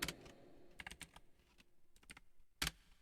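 Keys clatter on a computer keyboard during C# coding, with irregular bursts of quick clicks and a sharper loud keystroke near the end, close and otherwise quiet.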